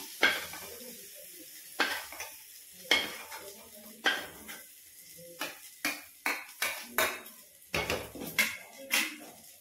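Lightly fried prawns lifted out of a kadai with a metal spatula, with a series of sharp scraping clinks against the pan over a faint background sizzle, close and moderately loud.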